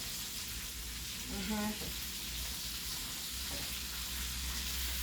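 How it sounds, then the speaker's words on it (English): Butter sautéing in a pan while fried snapper cooks, a steady close sizzling hiss throughout with a short tonal blip early on and no clear talk. "I'll take a little of this butter and I'll put in there so that it can saute down"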